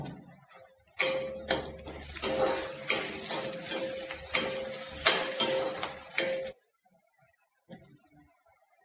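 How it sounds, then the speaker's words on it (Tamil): Curry leaves hit hot oil for a crab gravy and crackle and sizzle loudly at close range. Spoon stirring clatters against the pan throughout, then the frying stops abruptly, leaving near silence. "கருவேப்பிலையை இப்படியே போட்டுடலாம் நல்ல மனமாக இருக்கும்"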